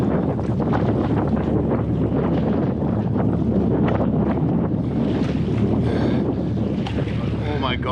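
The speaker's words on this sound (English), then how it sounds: "It's actually much more of a headwind than I'd anticipated it would be." Strong headwind roars across the microphone throughout a paddle across open water in the Arctic Barren Grounds, a steady broadband buffeting with faint water splashes and no pauses.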